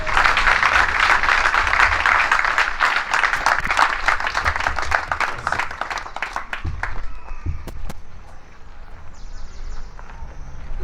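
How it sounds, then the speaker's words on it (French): Audience applause at a justice minister's launch speech, dense clapping that is loud at first and then fades out, with a few scattered claps at the end. "Je voudrais que tu te lèves et qu'on t'applaudisse une fois encore"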